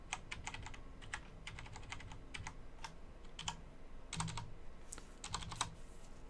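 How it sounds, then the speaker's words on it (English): Typing on a computer keyboard, close and fairly quiet, with quick bursts of key clicks separated by short pauses. "Oh, again, I'm typing."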